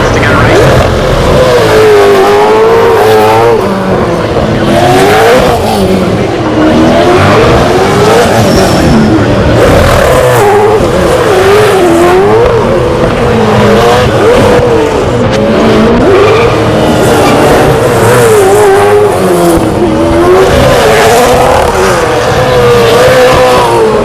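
Supercars race cars at the Newcastle 500 street circuit roar past in a continuous loud stream, engines revving and wailing through the gears, tyres squealing, with a crowd and talk faintly beneath.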